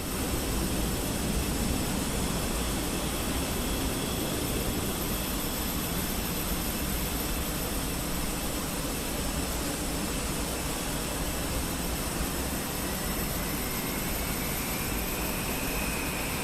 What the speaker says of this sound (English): The most study level plane in any sim so far,